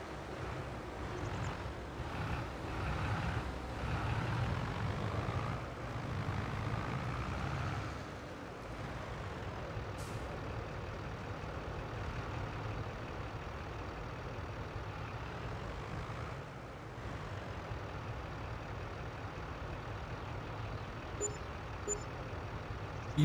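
A fast tractor drives in the Farming Simulator video game, a steady, rumbling engine drone with wind-like noise that holds for the whole stretch and dips only briefly.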